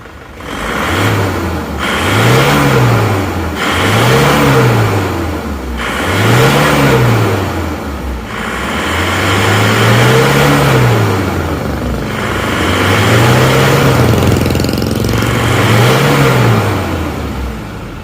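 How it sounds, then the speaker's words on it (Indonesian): Diesel engine of an Isuzu Panther revved repeatedly while exhaust smoke is checked: a series of rising and falling throttle blips, each swelling then dropping back to idle, loud and close with no talk. "Coba akan kita lihat dan kita cek saat mesin ini jalan 3 kilo, asap knalpotnya sambil kita gas"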